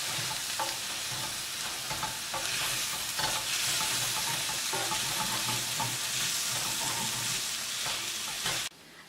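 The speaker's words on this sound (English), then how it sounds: "Once the sauce is stir fried a little bit, you can get all your vegetables and mix it" Vegetables stir-frying in black bean sauce for Korean jjajangmyeon, a steady loud sizzle with scraping stirs and clatter throughout, no talk, cutting off abruptly near the end.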